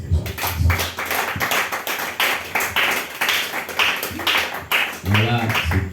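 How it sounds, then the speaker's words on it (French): A church congregation claps rhythmically and persistently in acclaim, with talking mixed in under the clapping throughout. "On acclame le Seigneur."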